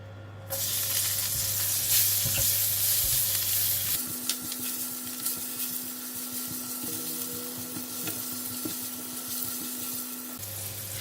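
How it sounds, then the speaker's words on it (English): Garlic fries in oil with a loud, broad sizzle that settles into a steady crackle, under a humming tone and occasional utensil taps. "We'll use the same oil to cook the garlic."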